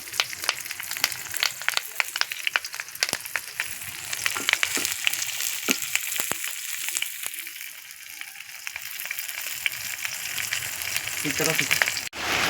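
Hilsa fish paturi, wrapped in banana and pumpkin leaves, fries in a pan with a constant close crackle and sharp spitting pops throughout, joined by faint background noise.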